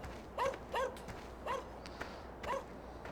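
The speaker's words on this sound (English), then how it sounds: "Shut up, dogs." Dogs barking in Farming Simulator 2013, with five short, evenly spaced barks at moderate volume over a quiet background.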